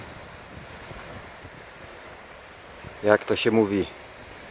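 Steady wind and surf rolling on a wild sandy beach on the Hel Peninsula, a constant wash of waves with wind buffeting the microphone, and someone briefly speaking near the end.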